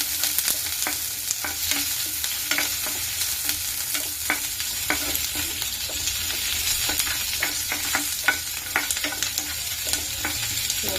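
Ginger and garlic frying in a pan for peanut chutney, a steady close sizzle with scattered crackles and light stirring scrapes throughout, no voices.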